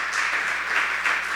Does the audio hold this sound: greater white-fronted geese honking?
no